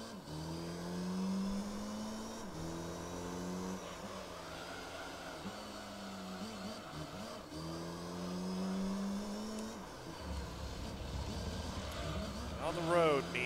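Several Nissan Skyline race car engines in the Gran Turismo 3 Grand Valley 300km race, droning and revving in steady cycles as the cars pull through the gears, with a voice talking over the roar throughout.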